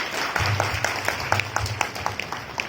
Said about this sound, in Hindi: एक जुबान जोरदार तालियां हो जाए